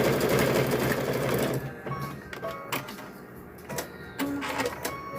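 A sewing machine stitches up the side of a rope bowl, a fast whirring run at first, then short stop-start bursts of stitching close by.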